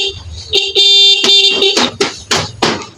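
A series of loud, buzzy electronic horn honks from an improvised, rewired vehicle horn, a few long blasts followed by several short rapid toots, close to the microphone.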